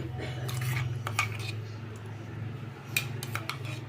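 Ginger garlic paste and salt being mixed into a marinade for rava fish fry, with light clinks and scrapes of utensils against a dish over a low background hum, a few sharp taps standing out.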